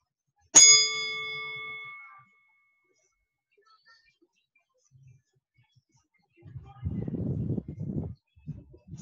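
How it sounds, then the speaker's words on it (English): A meditation bell rings once with a bright, clear strike that hums and fades over about a second and a half, followed by quiet and a soft rustle. "So let's listen to our bell."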